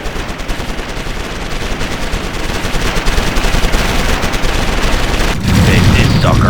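Dense, loud machine-gun fire and explosions rattle continuously in the real-time strategy video game Ground Control 2, with a heavier boom near the end and a voice speaking within the battle noise.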